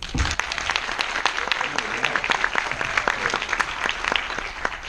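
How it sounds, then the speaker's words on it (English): Audience applause welcoming a new intake of MBA students into a business school program, a full room clapping steadily with some crisp individual claps standing out, a few voices mixed in beneath. "I'd like you to join me for a big round of applause"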